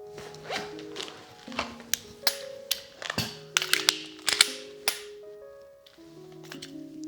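A zipper on an Eberlestock Fade Flex fanny pack is drawn in several short, raspy pulls mixed with small clicks and taps of gear being handled, close and fairly crisp.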